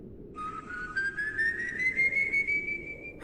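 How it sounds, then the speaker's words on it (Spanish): A single long whistle rises slowly and steadily in pitch, thin and sustained for about three seconds over a soft, windy background. "Un silbido, largo, sutil, con una melodía imposible de describir."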